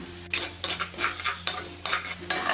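A spoon stirs chicken stock mixed with a quarter cup of fresh milk in a pan, making repeated scraping strokes in an uneven rhythm over a low, constant electrical hum.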